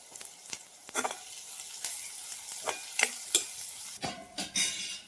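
Green chillies fry in a pan with a soft sizzle, broken by a few sharp stirring scrapes and spatters, quiet and close.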